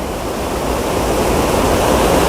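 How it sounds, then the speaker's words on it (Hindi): Water pours steadily over a small rural check dam as a mini waterfall, a dense, even rushing wash that stays close and loud without pause. "देसी वाटरफॉल"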